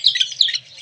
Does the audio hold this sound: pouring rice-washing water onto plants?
no